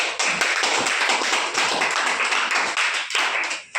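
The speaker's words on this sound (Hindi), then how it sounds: "एक जोरदार ताली होना चाहिए" An audience breaks into loud, dense clapping, a continuous close burst of many hands that holds steady for a few seconds and then tapers off.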